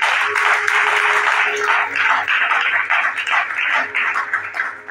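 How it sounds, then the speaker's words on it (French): A church congregation applauds to acclaim the Lord, sustained loud clapping from a crowd that swells and ebbs over several seconds, with faint voices mixed in beneath. "Quelqu'un peut acclamer le Seigneur."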